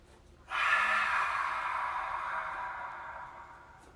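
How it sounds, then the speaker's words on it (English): One long, deep cleansing breath drawn and released during a yoga session's mountain pose, a steady breathy rush that begins suddenly and fades slowly over a few seconds, close and alone. "5 cleansing breaths."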